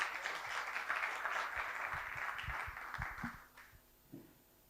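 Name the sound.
audience applause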